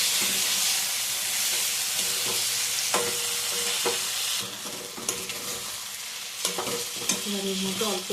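Eggs and pre-fried mushrooms poured into frying masala in a pan, loud sizzling that drops partway through, followed by scraping stirs and clanks of a spatula against the pan.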